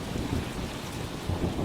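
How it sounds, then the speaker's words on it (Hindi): Steady heavy rain pouring down with deep rumbling thunder rolling underneath, dense and continuous, with no voices. "इसी तरह बारिश लगातार पड़ती रही।"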